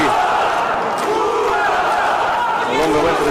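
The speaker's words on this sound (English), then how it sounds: "you can hear the crowd react immediately" Loud roaring crowd at an M-1 Challenge MMA fight between Alexander Lunga and Bair Shtepin, a continuous swell of shouting and cheering that surges and ebbs throughout.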